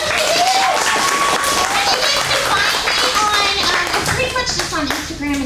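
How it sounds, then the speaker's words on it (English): A convention crowd claps for the My Hero Academia voice cast at FarleyCon, dense close applause running throughout with people talking and calling out over the clapping. "let's give individually, Ms. Rial, yes, a round of applause."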